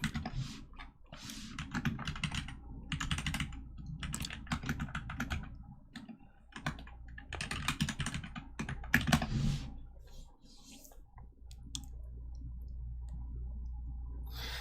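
Quiet typing on a computer keyboard during a live coding stream, with bursts of rapid key clicks separated by short pauses and a faint hum in the background.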